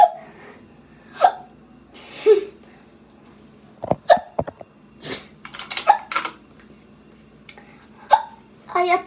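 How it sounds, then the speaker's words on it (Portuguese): Repeated hiccups from a person, close and sharp, each a short jolting catch coming every second or two, with small vocal noises and shuffling in between. "Desculpa, eu tô com soluço,"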